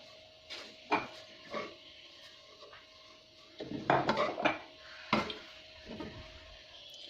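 Pempek seasoning mixture, with sugar and flavour enhancer added, being stirred in a bowl, heard as a series of irregular clinks and scrapes of utensil against dish, some louder bursts clustered together, with no talking.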